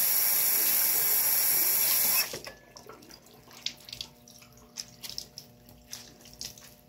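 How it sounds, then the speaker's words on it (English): Water gushing from a sink tap for a couple of seconds while someone washes face paint off, then stopping abruptly, leaving faint splashes and small dripping sounds. "I want to wash the shit out of my face"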